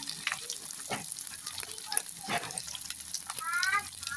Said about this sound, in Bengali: আমি এখানে আদা রসুন জিরা বাটা একসাথে করে দিয়ে দিব কষানোর জন্য।